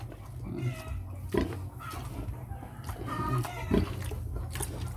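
Sow grunting close by, with two louder, sharper grunts standing out over a steady low snuffling, and faint clucking in the background.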